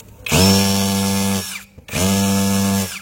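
A hammer drill in impact mode runs in two bursts with a brief stop between, its motor buzzing loudly with a harsh rattling hammer action.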